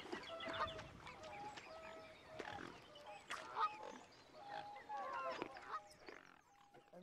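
Hungry swans honk and call repeatedly in a busy, overlapping chorus of nasal cries, moderately close and without talk.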